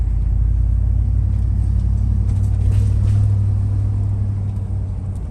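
A Cadillac driving slowly around the block, giving a continuous loud low engine rumble and road noise from inside the car, steady throughout with no talk.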